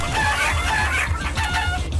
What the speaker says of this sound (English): these penguins make chicken noises